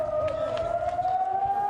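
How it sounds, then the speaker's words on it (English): Air raid sirens wail through city streets in Israel during a rocket attack, a steady sustained tone holding loud throughout with a faint rising harmonic, no voices over it. "The sirens roar in the streets, forcing Israelis to run for cover."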